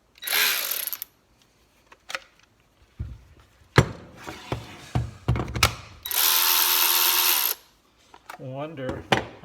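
A Ryobi 18V One+ cordless 3/8 ratchet with an extension fitted whirs in several short bursts, one longer steady run and a few stops, with clicks and handling noises between them and a person talking.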